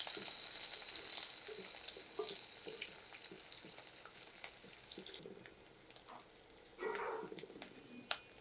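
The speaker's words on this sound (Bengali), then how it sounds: "আর এই যে পেঁয়াজ দিচ্ছি।" Onions sizzle loudly in hot oil in a wok, with a bright crackling hiss that gradually softens. Near the end there is a brief burst of stirring and a sharp clink.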